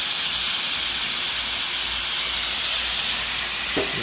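Teriyaki sauce and butter sizzle on a Blackstone griddle in a backyard teppanyaki cook, a steady, loud, bright hiss that holds evenly throughout.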